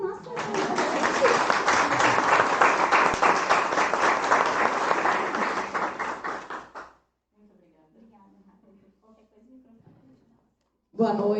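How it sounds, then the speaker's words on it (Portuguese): Audience applauding as a speaker is welcomed at an evening event: loud, dense clapping for about seven seconds that stops abruptly, followed by quiet room sounds and a brief burst of noise at the end. "Palmas para nossa"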